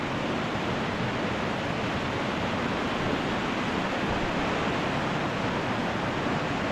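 Kaparkan Falls in Tineg, Abra, with its flow reduced, gives a steady, dense roar of falling water, a constant broadband rush that holds unchanged for the whole stretch with no voices over it.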